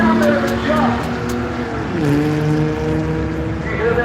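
A Cougar race car engine groans loudly at close range on a drag strip, its pitch climbing and dropping as it shifts through gears while speeding away.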